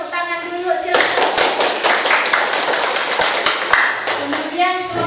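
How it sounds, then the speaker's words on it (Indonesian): Students applaud in a classroom, a dense burst of clapping from many hands that starts suddenly and holds steady for about three seconds before fading, with a voice speaking just before and after. "ya tepuk tangan dulu silakan"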